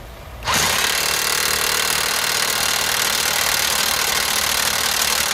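Power tool tightening brake parts on a 2014 Nissan Altima, a loud steady broadband whir starting after a brief quiet moment and running continuously without pause.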